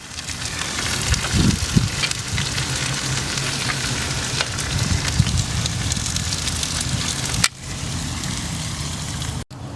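Lamb chops sizzle loudly on a hot grill, a dense continuous crackle and hiss with a few knocks as the pieces are flipped, then a brief drop in level near the end.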